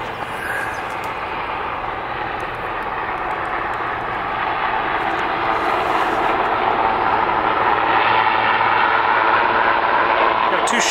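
Two helicopters, including Marine One, approach from behind over the White House grounds. A dense engine and rotor roar grows gradually louder and nearer across the clip.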